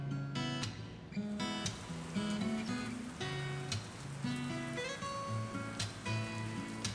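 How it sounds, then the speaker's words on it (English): Heavy Florida summer afternoon rain pours steadily at a garden nursery, a dense hiss of drops drumming on surfaces with scattered sharper taps and faint tonal hums underneath, fairly quiet overall. "The rain came down so hard that leaving wasn't really an option"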